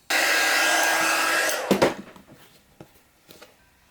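A heat tool warms a piece of stamping foam with a loud, steady blowing roar for about a second and a half, then cuts off, leaving a few faint handling clicks and knocks.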